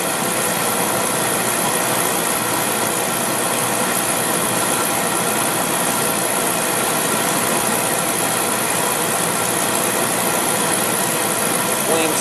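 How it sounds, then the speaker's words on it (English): A Beckett oil burner running with its ignition transformer sparking. It makes a steady, dense roar and buzz with no breaks, close and fairly loud. "Hear that? That's a transformer."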